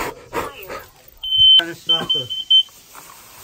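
Carbon monoxide alarm giving high, piercing electronic beeps, one long tone then several shorter bursts, close and loud, over people talking and a dog barking nearby.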